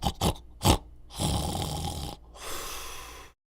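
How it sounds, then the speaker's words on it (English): A dozing pig snoring in a barnyard, a few short snorts followed by two long, drawn-out rasping snores, close and fairly loud, with nothing else heard. "In the distance could be heard the long-drawn snores of the dozing pig."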